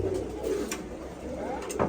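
Domestic pigeons kept by a pigeon fancier give soft, low, repeated coos at close range, several throaty calls rising and fading in a quiet setting.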